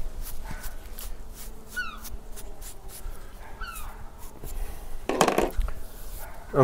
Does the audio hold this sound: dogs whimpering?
yes